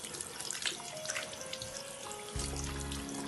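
Water running from a tap during handwashing, a soft continuous stream with light splashing and trickling, its tone shifting as the flow changes partway through.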